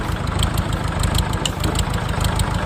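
A Kubota L4708DT tractor diesel engine idles steadily with a low, rumbling chug and a constant rhythmic knock, close and fairly loud, with no other sounds.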